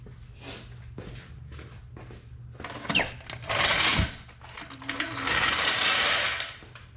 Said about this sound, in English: I'm gonna loosen the jack now that everything's in there